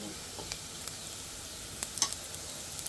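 Ginger and garlic frying in a pan with chili powder added, a quiet, steady sizzle with light stirring scrapes and small pops, close by and without talk.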